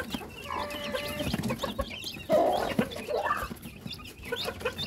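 Rhode Island Red chickens clucking and chirping in a poultry pen: several birds making overlapping busy calls and squawks close by, continuous throughout with no one talking.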